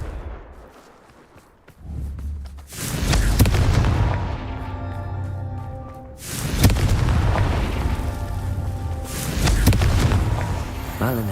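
Confringo spell blasts in Hogwarts Legacy go off as loud, booming explosions, with a heavy burst at about three seconds, another at six and a third near the end, each trailing into a rumbling roar.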